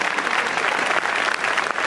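An audience gives a strong round of applause as a farewell to the Tio València cornet and drum band: dense, continuous clapping from a crowd at an even level, close and without pause.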